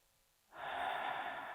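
A slow, deep exhale during a yoga breathing practice, a steady breathy rush that begins about a third of the way in after near silence and holds at an even, moderately close level.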